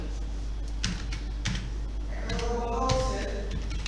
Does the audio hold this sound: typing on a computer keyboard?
yes